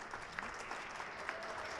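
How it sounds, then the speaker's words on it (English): Spectators at a boys' high school volleyball game, Troy vs. Fairmont Prep, clap briefly as an injured player is helped off the court; the applause is faint and scattered, heard from a distance. "We're clapping, yes."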